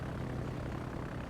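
Steady, continuous drone of a propeller aircraft flying in the World of Warships naval video game, a dense broadband engine roar with no pauses.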